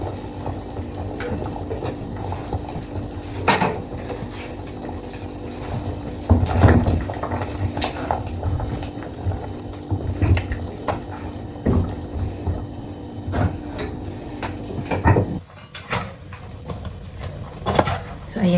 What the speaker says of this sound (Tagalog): kumukulo na yung ating ulam. Kumukulo na yung manok.